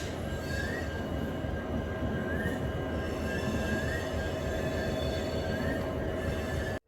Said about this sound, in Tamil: அந்தமான் எக்ஸ்பிரஸ் அதாங்க அந்த வண்டி கிளம்பி போயிட்டுருக்கு